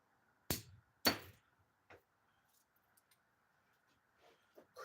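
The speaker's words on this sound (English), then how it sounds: "these need to be busted down with a hammer" Hammer cracking copper rings salvaged from a flat screen TV, two sharp close strikes followed by a softer tap and faint scattered clinks in a quiet room.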